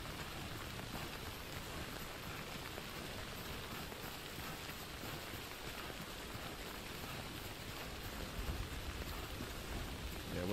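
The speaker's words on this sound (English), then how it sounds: "A lot of rain." Steady hiss of heavy rainfall in the video game Death Stranding, a dense even wash of drops lasting throughout, with no talk over it.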